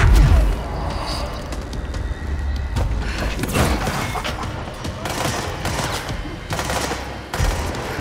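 Gunfire and explosions in the video game Control: rapid bursts of shots with heavy booms, a dense, loud barrage that runs almost without a break.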